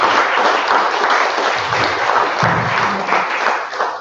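A crowd at a twelve-year anniversary celebration gives sustained, loud applause that fills the room evenly from start to finish, with no voices rising above it.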